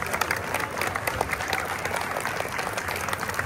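An audience claps at a London Ashadhi wari gathering honouring Vitthal, dense continuous applause from many hands at moderate loudness, without a break.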